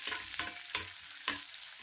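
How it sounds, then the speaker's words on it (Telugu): Green chilies and curry leaves fry in a pan with a soft sizzle, broken by a few quick stirring scrapes. "అలాగే కరివేపాకు కూడా వేసుకుని ఒక 2 నిమిషాలు వేయించుకోవాలండి."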